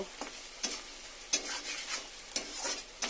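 Turmeric, salt and spices frying in a pan, with several scraping stirs at irregular intervals over a steady soft sizzle, close and fairly quiet.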